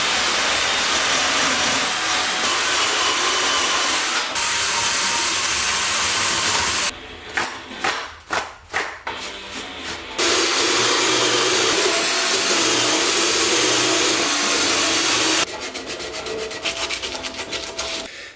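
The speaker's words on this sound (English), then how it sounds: "So I've been polishing for the last 2 hours maybe." Hand polishing of an engine rocker cover from a V5 engine, a steady continuous rubbing and scrubbing texture, fairly close and loud, with a burst of quick choppy strokes midway and a brighter, harsher rub near the end; no talking.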